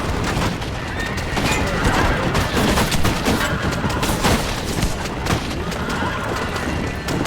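In the Red Dead Redemption video game, a horse gallops and whinnies in Mexico amid a loud, dense mix of hoofbeats and gunfire-like bursts that fills the whole stretch.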